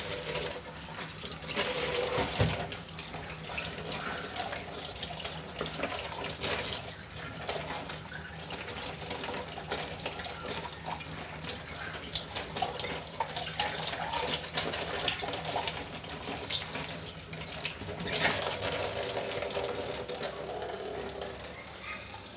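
Tilapia being washed under a running kitchen tap, a steady broadband rush of water into a sink with occasional clatter and splashes as the fish is handled, continuous and fairly close, with no talking.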